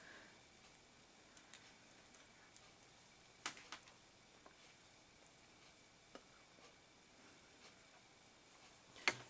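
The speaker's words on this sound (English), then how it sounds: "And you might also hear my clock in the background because it is pretty quiet today." A clock ticks softly in a very quiet room, its faint, sparse clicks sitting just above a low hiss with no voices.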